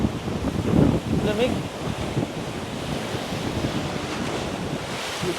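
Ocean surf and gusty wind on Boracay beach, a continuous rushing wash with heavy wind buffeting the microphone, while a voice briefly speaks.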